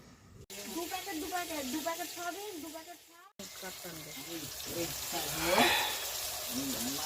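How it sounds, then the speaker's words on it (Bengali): Tuna pieces frying in hot oil make a soft, steady sizzle and hiss beneath a voice talking throughout, with a brief sharper spatter near the end. "ভাজা প্রায় হয়ে আসে"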